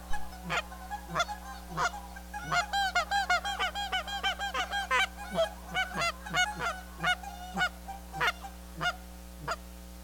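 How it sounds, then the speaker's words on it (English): Geese honk in a goose pit at sunrise, giving rapid, repeated loud honks in uneven bursts close by, over a steady low hum, with no talk. "let's give them a sample of sunrise in the goose pit."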